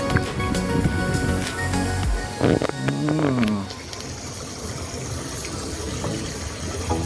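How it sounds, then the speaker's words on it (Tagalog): An outdoor fountain at the port of Cozumel splashes and gushes with a continuous watery rush, moderately loud, with a brief burst of other background noise partway through. "Uy, ang ganda ng fountain, no?"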